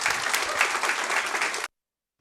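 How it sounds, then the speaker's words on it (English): Audience at an evening talk breaking into dense, sustained applause, a wash of many hands clapping that stops abruptly after under two seconds. "let's have a huge round of applause for Pourush."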